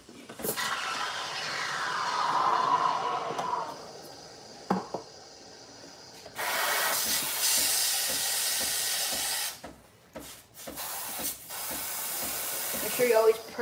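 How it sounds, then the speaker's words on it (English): An espresso machine steam wand froths whole milk with a loud hiss that rises, cuts out, then returns in a second long burst, followed by short sharp purge blasts, with people talking between. "Purge your steam wand after using it so there's no milk stuck in there."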